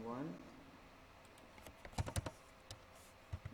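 Keys tapped on a computer keyboard while a C++ program is typed in, scattered bursts of clicks close by after a brief voice at the start, otherwise quiet.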